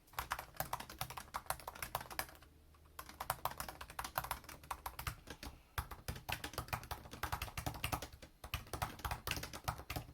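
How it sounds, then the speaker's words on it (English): Rapid clicking of keys on a computer keyboard, close and steady, in bursts with brief pauses between runs of typing. "I'm going to first get started typing on my computer for 10 minutes"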